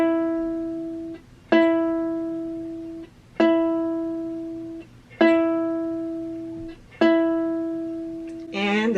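A ukulele's second string, tuned to E, is plucked four times in a steady rhythm while tuning, each clear note sustaining and fading before the next, close up with no voices.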